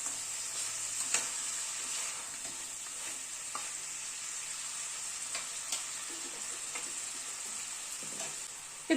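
Mutton sautés in oil in an uncovered pot, releasing a steady bright sizzle with occasional scrapes and taps of a stirring spoon, close up and with no talk.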